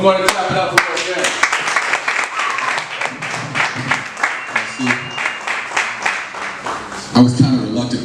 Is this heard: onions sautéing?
no